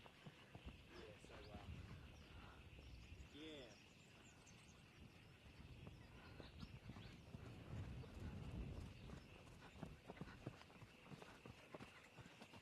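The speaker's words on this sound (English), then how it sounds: "I'm currently riding a horse." Hooves of a ridden horse clip-clopping in a steady rhythm on a sunny outdoor ride, close and clear, with an occasional snort and faint birds in the background.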